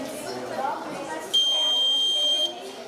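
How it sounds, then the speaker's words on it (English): An alarm buzzer on a small sensor project with an LED light, shown at a school exhibition, sounds a steady, piercing high tone for about a second over the murmur of a busy, crowded room. "We have used a small sensor, LED light, and thus alarm."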